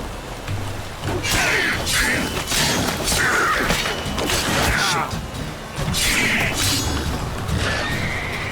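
Horse whinnies and neighs while riding in the video game The Witcher 3, several loud calls recurring over a steady, dense background of game sound.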